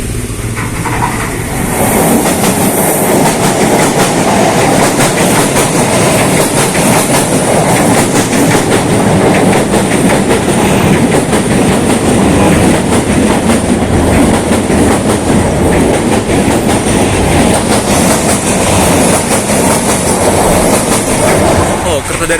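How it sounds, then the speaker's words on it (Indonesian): A train from China rumbles past on rails beside homes on wooden sleepers, a loud, close, continuous roar with steady clickety-clack from the wheels and faint squeals, running unbroken for over twenty seconds. "Kereta dari China. Nah, pasti berisik banget lah ya orang yang tinggal di sisi rel ini ya."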